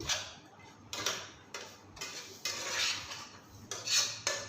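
Dried bombil fish chutney mixed with salt in a pan, a spoon scraping and stirring in repeated strokes of steady rhythm, close and moderately quiet with no talking.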